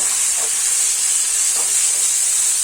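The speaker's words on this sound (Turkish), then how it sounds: "Biraz kavuruyoruz." Tomato paste sautéing in a pan for potato içli köfte, a steady, loud bright sizzle and hiss throughout with faint stirring scrapes, no voices.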